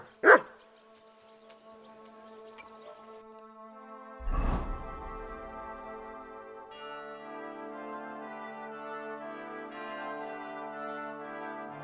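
A dog in Kingdom Come Deliverance II gives one sharp bark, then another muffled bark a few seconds later, both over a sustained orchestral game score with no talk.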